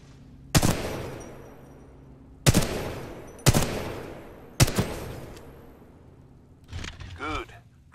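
Four single heavy weapon shots ring out in Titanfall 2, spaced about a second apart, each a loud sharp crack with a short decaying tail, followed by a softer mechanical clatter, with no talk over them.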